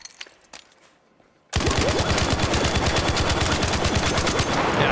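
Rapid automatic gunfire from a video game weapon fitted with a compensator, a loud, dense burst that starts suddenly after a quiet moment and keeps hammering steadily to the end.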